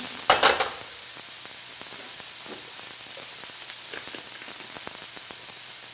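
Onions sauté in a pan for a vegan Salisbury burger, a steady hissing sizzle with a brief burst of crackling and scraping at the start, then faint ticks of stirring over the constant fry.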